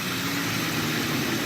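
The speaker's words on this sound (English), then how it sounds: "Now we're running the engine, no belt-driven accessories." A car engine idles steadily with no belt-driven accessories fitted and no screaming tensioner pulley, giving a smooth, even low hum and rumble with no knocking, close and continuous without any talk.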